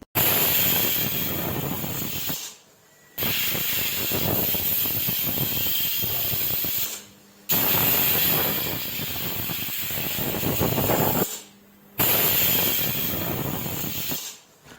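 A loud, steady rushing hiss of steam venting from a pressure cooker of lentils in long bursts, each cut off abruptly by a brief silence before starting again.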